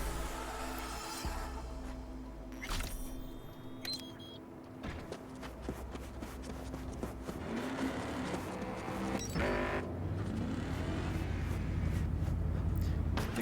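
A car driving in Cyberpunk 2077 hums with a continuous engine drone and road rumble that swells toward the end, broken by clicks and short mechanical sounds along the way.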